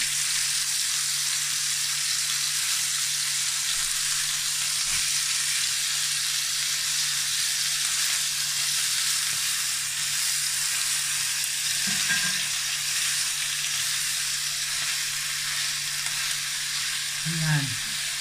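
Burger steak browning in a frying pan gives a steady, even sizzle of hot oil throughout, with a few soft clinks and scrapes near the end and no talk.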